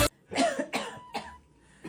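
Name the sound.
cough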